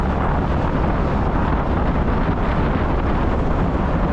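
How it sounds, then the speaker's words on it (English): Strong wind on San Andrés Island in the Caribbean roars and buffets the microphone in a constant, loud, rumbling rush with no letup. "Man, it's really windy now."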